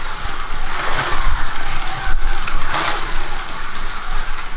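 A Carrera slot car, running without traction magnets, whirs around a plastic track, its small electric motor rising and falling in pitch as it accelerates and brakes for the corners.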